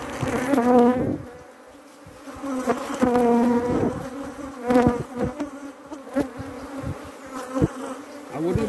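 Honey bees buzz around an open beehive during a swarm-prevention inspection, a close, continuous droning hum that swells and fades as individual bees pass near, with handling noises mixed in.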